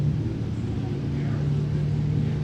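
Drag racing cars revving at the start line at an NHRA Hot Rod Reunion, a steady loud low engine drone held throughout, with a faint crowd or announcer wash behind it.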